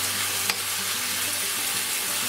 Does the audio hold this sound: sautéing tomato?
yes